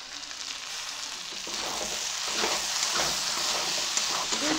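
Malabar spinach and other vegetables cook in a covered pan, giving off a soft, continuous sizzle and bubbling that grows slightly louder over time, with no talking.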